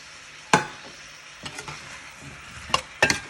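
Squash with salted shrimp paste is stirred in a frying pan for pinakbet, with a soft sizzle under a few sharp spatula scrapes and clinks against the pan.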